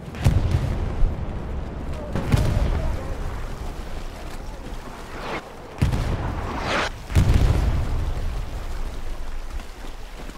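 Mortar shells burst in a war video game, several deep, heavy booms landing a few seconds apart with rumbling tails, some close and loud, others more muffled, while someone talks between the impacts.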